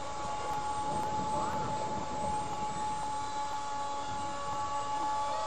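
A radio-controlled Su-57 dual-motor model jet flies on just one motor, giving a steady, continuous whining drone at moderate distance throughout.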